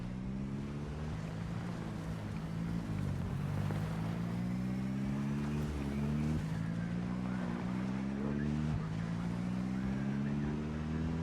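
A car driven in the zombie survival game Project Zomboid, low on gasoline, gives a steady engine drone whose pitch climbs and drops in repeated steps like gear shifts, continuous and fairly close, with no speech.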